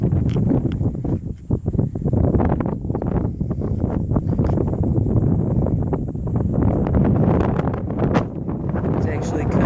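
Wind gusts buffet the microphone along an aqueduct on a desert hiking trail near Agua Dulce, a loud continuous rumbling roar with irregular bursts, close and constant throughout.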